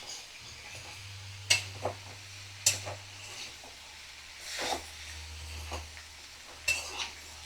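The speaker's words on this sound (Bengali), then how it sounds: "আমি ভালো করে নাড়াচাড়া করে লাউ চিংড়ি মিশিয়ে নেব" Gourd and shrimp being stirred in a pan over medium flame, with soft sizzling under several sharp scrapes and clinks of the spatula against the pan, fairly quiet and close.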